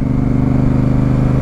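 Close, loud steady idle-to-low-rev rumble from a Honda Africa Twin motorcycle's exhaust, a dense rhythmic engine pulse running without pause and with no voices.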